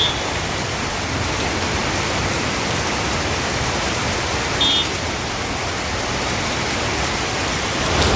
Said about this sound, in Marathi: या धुवाधार पावसाने धरती न्हाऊन निघाली.